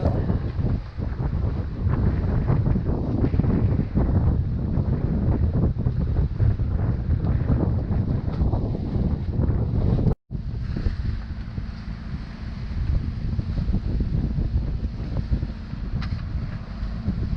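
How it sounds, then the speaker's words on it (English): Waves slapping broadside against a sailboat on a lumpy Lake Michigan, mixed with loud gusting wind buffeting the microphone, a continuous rough roar with a brief dropout near the middle. "Waves are hitting us pretty much broadside now."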